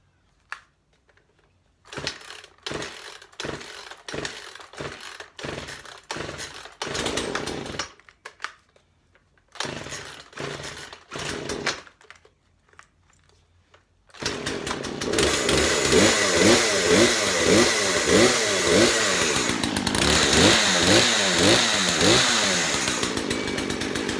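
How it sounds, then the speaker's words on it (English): A Poulan chainsaw is pulled over several times in a series of short, sputtering bursts with pauses, then catches and runs continuously, a loud, close, buzzing two-stroke engine that holds a steady roar with slight rising and falling revving. "This is the first time I've started this saw in a while."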